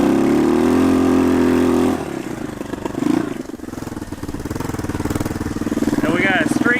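A revived three-wheeler ridden through snow, its engine droning loud and steady before dropping off abruptly, then sputtering and revving unevenly as it picks up again, with a voice heard partway through.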